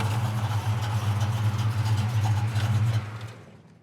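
A 1964 Chevrolet El Camino idles with a lumpy, rumbling cammed V8 note, steady and fairly close, then cuts off abruptly near the end, with no talk.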